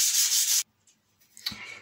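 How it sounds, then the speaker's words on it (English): Hand sanding of MDF girder pieces for a model truss bridge: a loud, steady rasping scrub for about half a second, then near silence broken by a few soft rubs and a brief knock. "having sanded that completely down"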